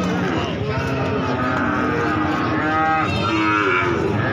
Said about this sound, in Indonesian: Sapi-sapi bibitan betina dari Pasar Mulaan Jaken